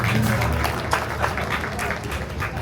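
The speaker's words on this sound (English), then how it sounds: "how about it for fantastic bassist, Mr. Leon Boykins" Audience applause for the bassist at a live jazz quartet show, a dense steady wash of clapping filling the room, with a voice briefly audible under it.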